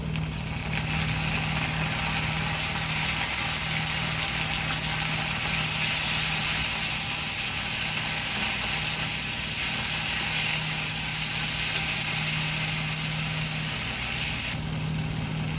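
Browned onions fry with ginger garlic paste in a pan, a steady, close sizzling hiss that carries on evenly with a faint low hum beneath and no talking.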